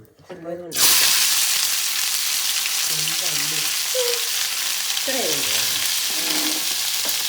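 Fish sizzles steadily in hot coconut oil, a loud continuous crackling hiss that starts abruptly and holds throughout, with a voice speaking briefly over the frying.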